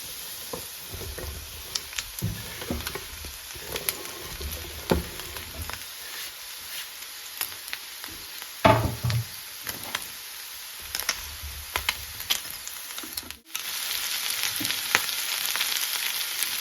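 Meat with added onion sizzles and fries steadily in a pan, a close continuous crackle with occasional stirring clicks and a brief louder scrape midway.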